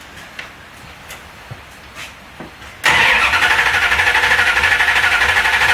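A car engine fitted with a Mopar ignition module cranks briefly after a few quiet clicks, then fires and settles into a loud, steady, slightly pulsing idle close by.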